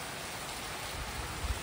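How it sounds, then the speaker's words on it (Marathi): Rain falls outdoors with wind, a steady, even hiss of downpour with a few low gusty rumbles near the end and no voices. "हे बघा पाऊस वारा सगळंच आहे."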